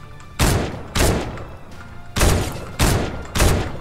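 Gunfire in Fortnite Battle Royale, five loud close shots spaced roughly half a second apart with a short gap in the middle, no talk over them.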